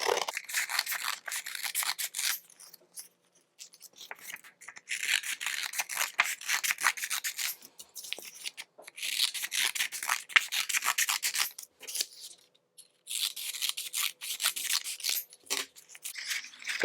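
Scissors snipping through stacked sheets of green paper, cutting them into strips about an inch wide; steady close rubbing, crisp cutting strokes in several bursts with short pauses, no talking.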